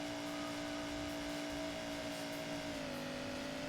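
Quiet, steady motorcycle engine drone from the Ducati World video game, holding a sustained buzzing pitch that dips slightly near the end, faint and continuous with no talking.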